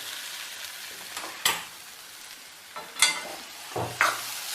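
Sweet potato and sugar sizzle in a hot pan while a utensil stirs and scrapes a few times, with sharp clinks standing out over the steady frying.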